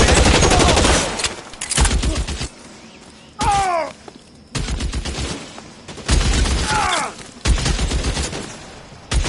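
Bursts of loud, close automatic gunfire in an LA Noire shootout, coming in several separate volleys with short pauses between them and brief voices shouting in the gaps.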